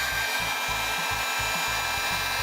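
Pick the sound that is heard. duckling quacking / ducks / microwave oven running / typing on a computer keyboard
microwave oven running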